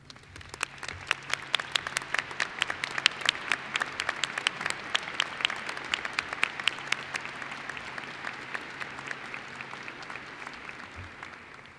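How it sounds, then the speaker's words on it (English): A large commencement audience applauds faculty and emeritus professors with sustained, dense clapping that carries steadily for several seconds before slowly thinning out, no voices over it. "join me by honoring them with your applause"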